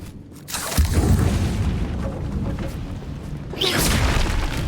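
A Bombarda spell explodes in Hogwarts Legacy, a heavy booming blast that rolls on with rumbling debris, then a second sharp burst hits near the end, loud and close.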